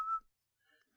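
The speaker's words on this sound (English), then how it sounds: "he demonstrates his newly mastered technique of inward whistling" A man whistles a single short, bright note, loud and close, in a radio-style advertisement; the tone breaks off and a softer, fainter tail of trailing sound follows after a short silence.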